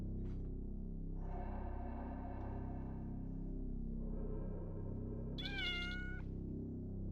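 A cat meows inside the PS1 horror game Otogirisou, with several drawn-out, rising-and-falling meows over a steady low game drone, the last one sharper and higher.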